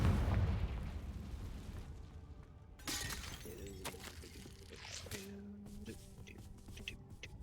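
In the Hogwarts Legacy video game, a Confringo fire spell explodes with a heavy rumbling blast, followed by a sharp crackling burst and further scattered bangs and game effects, fairly loud with no talk.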